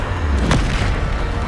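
A deep boom from the Bombarda blasting spell in Hogwarts Legacy, one sharp hit with a low rumbling tail, loud and close.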